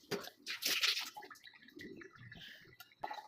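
Water running and splashing from a tap while lipstick is washed off a face, with uneven bursts of spray and drips, close and fairly quiet, and no talking.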